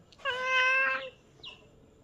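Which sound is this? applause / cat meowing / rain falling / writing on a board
cat meowing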